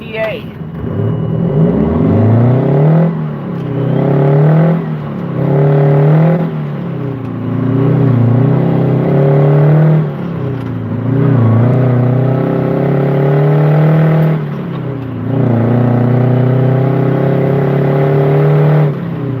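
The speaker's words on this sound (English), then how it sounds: "You can go deaf listening to this truck." A loud truck engine revs repeatedly, rising and falling in deep surging pulses close by, with a voice talking over the engine at times.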